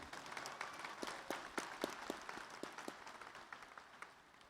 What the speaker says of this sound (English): please join me in giving them a round of applause also for their service